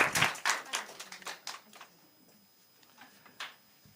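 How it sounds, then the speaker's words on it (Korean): A church congregation claps during a Sunday worship service, a burst of loud applause that fades into scattered, thinning claps, with no talk over it. "우리 박수로 축하하겠습니다"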